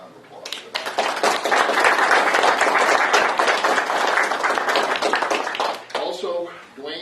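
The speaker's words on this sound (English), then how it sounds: "I think we should all give him a round of applause for that." An audience claps in a sustained burst of applause at a gathering, a dense steady patter of many hands lasting several seconds before trailing off.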